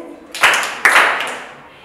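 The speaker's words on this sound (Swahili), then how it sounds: "Tuweze kumpungiza kwa makofi." Brief applause at a school spelling contest at Kiambu Hillcrest Academy, two sharp bursts of clapping that fade quickly, close by, with no speech over them.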